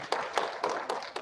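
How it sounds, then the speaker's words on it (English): Applause from an audience at an election event, a short burst of a few distinct claps, close and moderately loud. "round of applause."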